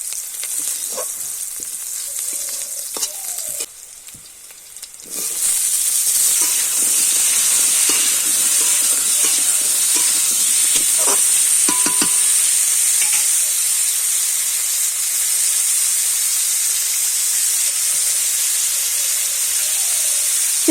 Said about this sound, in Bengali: এবার দিয়ে দেব 5 ফোড়ন, হাফ টিস্পুন মতো, দিয়ে একটু ভেজে নিয়ে তারপর দেব কেটে রাখা আলু।